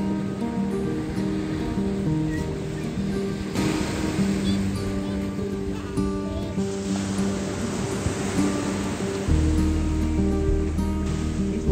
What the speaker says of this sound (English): Beach is here.